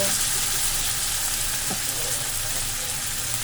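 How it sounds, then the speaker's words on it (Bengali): Chopped tomatoes stirred and frying in a pan for matar paneer, a steady dense sizzle throughout at close range with no talking. "টমেটো কুচি দিয়ে একটু ভালো করে নাড়াচাড়া করে মিশিয়ে নেব।"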